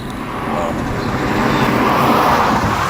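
Steady roar of passing road traffic beside a farm in Pennsylvania, a continuous broadband rumble that swells slightly, with no voices.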